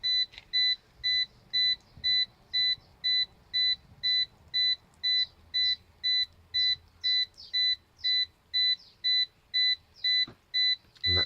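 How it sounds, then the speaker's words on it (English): The top meter on a small one-litre tabletop distilling unit making Coleman fuel beeps repeatedly in a steady, even on-off pattern, a bright electronic tone pulsing about twice per second, close and clear with quiet background. "that top meter will stop beeping when it comes"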